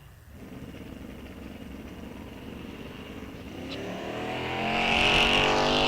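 Drag racing cars launch down the strip at a bracket series event, one a Mustang: a low engine rumble holds steady, then swells into a loud, rising rev as the cars accelerate away.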